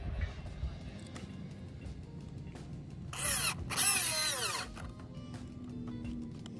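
A power drill whirs in two short bursts, rising and winding down while bolting a backyard pergola kit in place, fairly close with quiet background between.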